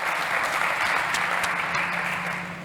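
An audience at a startup pitch competition gives a loud, sustained round of applause, dense clapping that fills the room and begins to fade at the end.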